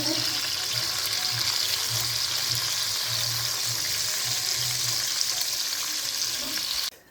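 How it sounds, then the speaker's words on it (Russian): Deer liver wrapped in moose fat fries in sunflower oil, giving a loud, continuous sizzle with faint stirring clatter and a low hum underneath, ending abruptly. "Обжариваем в масле до полной готовности."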